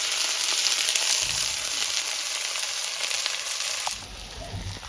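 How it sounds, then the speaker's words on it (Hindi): Sliced onions fry in oil in a pan for Kashmiri harissa, a dense, steady hiss and crackle up close, easing slightly near the end, with no talk over it. "अब यहाँ से हम फ्राई कर लेंगे प्याज।"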